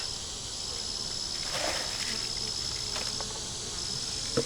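Bees hum at an opened hive being inspected for a queen that is not laying properly, a steady close insect drone with a few brief knocks from handling frames.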